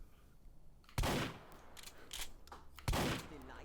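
Two loud, close shotgun blasts from buckshot rounds in Hot Dogs Horseshoes & Hand Grenades, spaced about two seconds apart, with a quieter mechanical clack between them.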